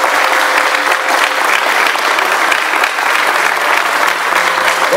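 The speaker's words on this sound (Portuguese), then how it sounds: "Uma salva de palmas aí!" Dense, steady applause from a crowd at a family dinner and graduation ceremony, loud and continuous throughout, with a faint sustained tone running beneath it.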